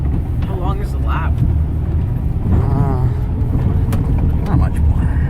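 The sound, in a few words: offroad vehicle driving through a quarry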